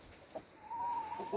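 Chickens and a rooster cluck softly at close range in a coop with broody hens, a short cluck followed by a longer rising call over a low barnyard murmur.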